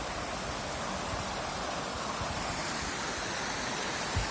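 The Dore river flowing, a steady broadband rush of water that stays constant and fairly faint from start to finish with no voices.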